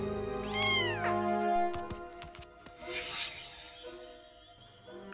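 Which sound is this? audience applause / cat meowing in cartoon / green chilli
cat meowing in cartoon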